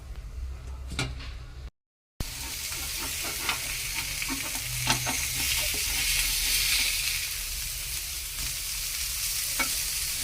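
Fish fries in a pan over low heat with a spoonful of ginger oil, a steady close sizzle running throughout, broken by a brief dropout and a few sharp clicks and scrapes as the pieces are handled.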